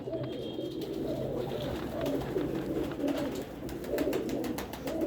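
Pigeons in a home breeding setup coo steadily in low, overlapping throaty rolls throughout, fairly close, with a few faint higher chirps and no talking.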